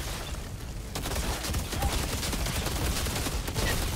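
Assault rifle fire in the sci-fi shooter Outriders, loud, continuous rapid bursts of gunshots packed densely together, with no pauses, for the whole stretch.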